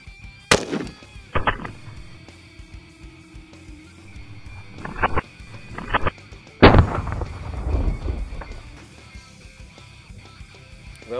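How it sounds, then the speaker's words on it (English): Rifle shots fired at blue jug targets on an outdoor range, comparing a Buggy 15 and an AK-47: several sharp, loud cracks with echoing tails, spaced irregularly over several seconds with quiet pauses between. "I'm gonna put 1 good shot on the blue jugs"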